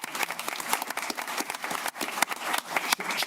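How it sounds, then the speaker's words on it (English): An audience at a city council meeting gives a round of applause, a brisk scatter of clapping from a modest crowd, uneven and fairly close, with no speech over it. "if we can give her a round of applause."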